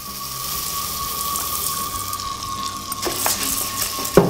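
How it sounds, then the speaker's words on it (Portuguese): Rice sizzling and frying in melted butter in a pan for a sweet coffee risotto, a steady crackling hiss with a few louder pops and stirring scrapes near the end. "vou dar uma fritadinha no arroz"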